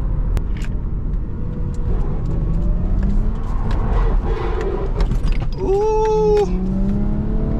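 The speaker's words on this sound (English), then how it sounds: "I'm gonna slide this turn up here." A 400 hp Lexus IS300 with a swapped 2JZ engine slides through a turn, heard from inside as a steady, loud engine drone with a rising tone, tire noise and a rattle, plus a brief exclamation.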